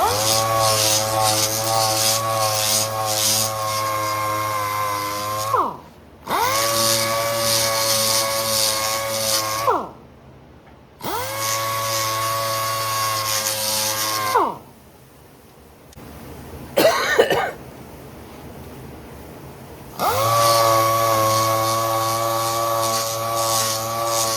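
Side molding on a 1964 Ford Falcon being sanded and buffed with a power tool: four loud, steady droning runs of several seconds each, separated by short pauses and faint handling sounds.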